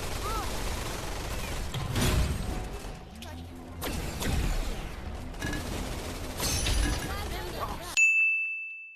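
Rapid gunfire from a fusion rifle in the VR shooter Gun Raiders, with bursts of shots, metallic pings and clanks coming in waves and ending in a bright ding, while players talk over it.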